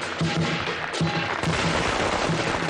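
Firecrackers set off close by at a festive lion dance, producing a dense, continuous barrage of loud, rapid cracks and pops with no pause.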